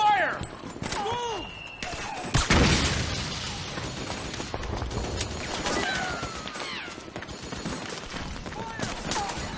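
Metal Gear Solid 4 battle noise with a loud blast and burst of gunfire near 2.5 seconds, set among bird-like chirps, scattered impacts and shouting voices, with a steady background din.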